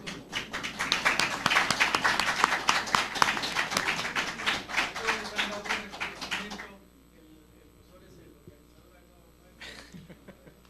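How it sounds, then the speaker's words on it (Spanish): Lecture audience at a 2001 religious and political tolerance conference applauds loudly for about seven seconds, dense clapping that then stops abruptly, leaving quiet room noise with a brief later sound. "El aplauso de ustedes, pero bien fuerte"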